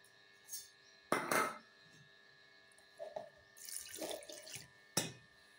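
Water is poured into a pan of cooking chakvat greens in a kitchen, heard as a few brief splashes and pours among clinks of utensils against cookware, quiet and close, with no talk.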